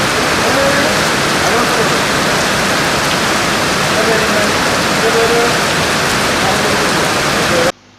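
Heavy monsoon rain falls in Kerala as a dense, loud, unbroken downpour hiss that cuts off abruptly just before the end.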